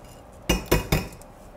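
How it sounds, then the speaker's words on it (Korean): Soaked rice is tipped from a strainer into a pot, marked by three sharp metallic knocks in quick succession, close and distinct over a quiet background. "미리 채반에 불려둔 쌀을"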